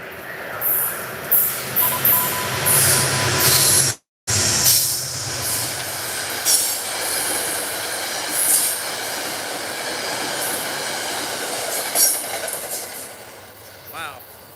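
A diesel commuter train roars past at speed near Fordham, its loud rumbling engine, clattering wheels and squeals filling the scene as people talk over it.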